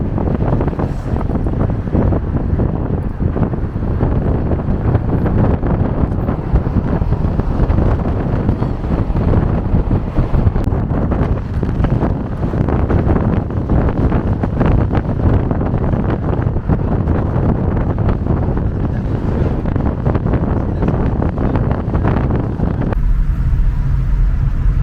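Taxi cruising a highway in Riyadh, a loud steady roar of road and wind noise inside the moving car for the whole stretch.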